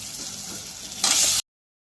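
Potatoes frying with chilies in a hot pan, a steady close sizzle that swells louder and brighter near the end before cutting off abruptly.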